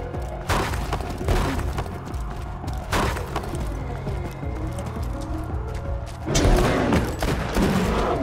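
Turret gunfire in the video game Borderlands 2, several heavy bursts and booms at irregular intervals over a busy background of game effects.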